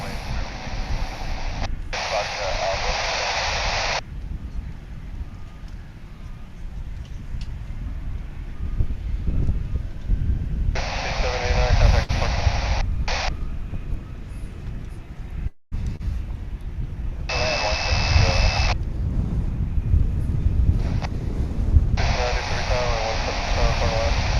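A jet airliner rolls down the runway and takes off at DFW International Airport, its broad, steady engine roar filling the background while a commentator talks over it almost throughout.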